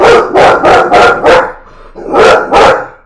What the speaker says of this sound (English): So he's just barking because the other guys are barking.